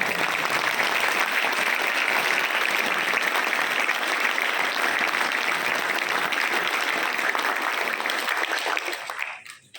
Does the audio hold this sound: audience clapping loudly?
yes